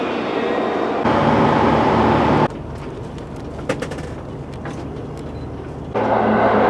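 Interior rumble of the moving Yufuin no Mori tourist train in Japan, a steady loud drone that drops quieter midway with faint clicks and rattles before swelling back up.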